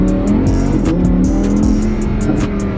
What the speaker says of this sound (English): if you listen to the pitch of the engine, you could hear the sound change when you change modes